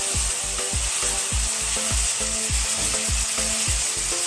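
Capsicum tipped into chicken curry frying in a pan sets off a steady, loud sizzle, with repeated scraping and stirring strokes in a regular rhythm and no voices.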